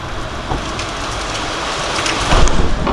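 Heavy monsoon rain pours down in a dense, roaring wash that swells louder near the end, close and loud, with no speech.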